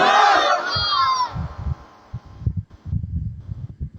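Crowd at a Bengali religious sermon gathering shouting a chant in unison after a takbir call, a loud massed roar that fades, followed by scattered thumps and rustling.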